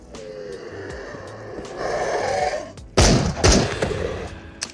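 Sawed-off shotgun fired in the VR game Into the Radius: a sharp, loud blast near the end, following quieter rustling and creature-like wheezing noises.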